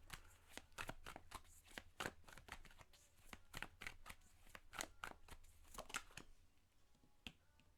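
Tarot cards shuffled and handled during a reading, giving a steady run of sharp snapping flicks and riffles that come close and fairly loud, with no talking.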